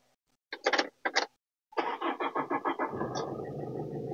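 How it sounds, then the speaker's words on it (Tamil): A car engine cranks in two short bursts, pauses, then catches and fires with a pulsing run-up before settling into a steady running note, close and fairly loud. "இன்ஜினோட நாய்ஸ் அப்படியே கேட்கலாம்."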